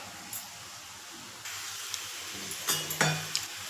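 Bitter gourd curry fries uncovered in oil with a soft, continuous sizzle, broken by a few sharp clinks and scrapes of a utensil against the pan near the end; quiet and close, no talking.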